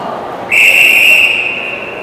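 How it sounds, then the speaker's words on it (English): A referee's whistle blows one long, loud, steady blast during a Major Series Lacrosse game between the Six Nations Chiefs and Peterborough Lakers, rising sharply over the arena murmur and fading slowly. "pass intercepted by the Lakers as the officials whistle things down as Sean Evans goes to the penalty box"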